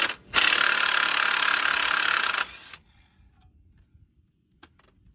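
Ratcheting and wrenching on a shock absorber bolt underneath a Ford Explorer, a dense close grinding burst lasting about two seconds, then a few faint clicks and taps in near silence.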